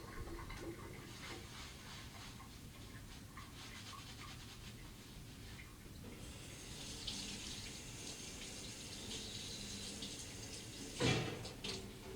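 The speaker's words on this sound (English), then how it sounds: "While wearing the utility gloves, wash them with soap and water to remove visible debris." Tap water running steadily into a sink while soap-covered utility gloves are scrubbed, a continuous close splashing wash with a brief louder burst near the end.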